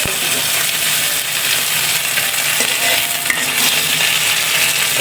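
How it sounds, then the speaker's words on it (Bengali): Dried fish (shutki) frying in hot oil in a home kitchen makes a steady, loud, hissing sizzle that runs without pause, with an occasional stir-like clink. "আমি তেলটার মধ্যে এটা একটু ভাজা নেব"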